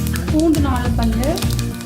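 Four garlic cloves drop into hot oil with mustard seeds, fennel and fenugreek for a curry leaf gravy and give a loud, close, steady sizzle, with a voice speaking over it.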